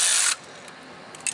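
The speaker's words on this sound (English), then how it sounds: "then hit it again with a ratchet" Ratchet tightening the catalytic converter bolts on a Nissan Altima, heard as a short loud burst of rapid clicking followed by quiet and one faint click near the end.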